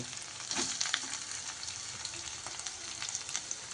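Ginger frying in a pan sizzles steadily as carrots, potatoes and other vegetables are tossed in, with scattered crackles and clinks of a spoon over the constant hiss, up close.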